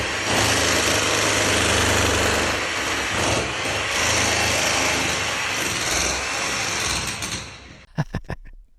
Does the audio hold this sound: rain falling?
no